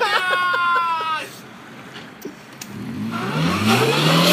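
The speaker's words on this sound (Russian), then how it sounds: "Мусора, мусора, мусора мимо едут." A police car drives past on a street, its engine note swelling as it nears, after a short burst of voices at the start.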